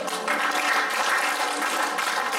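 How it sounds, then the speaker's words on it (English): Church congregation clapping hands together, a dense, even wash of many claps sustained for a couple of seconds, fairly loud and close. "Give Lord a hand clap"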